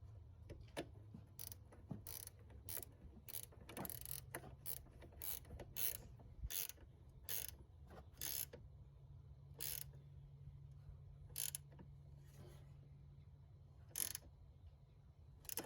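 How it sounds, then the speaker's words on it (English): A ratchet tightens the negative battery terminal connector on a fifth-generation Toyota 4Runner, giving a close, quiet run of rapid clicking strokes in short repeated bursts. "Then reinstall the negative terminal connector and tighten it down snugly."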